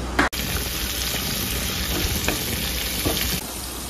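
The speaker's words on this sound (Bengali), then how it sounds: "পেঁয়াজ রসুন ভাজা হচ্ছে" Onion and garlic frying in ghee, a loud continuous close sizzle with occasional stirring clicks and a brief knock at the start, no voices.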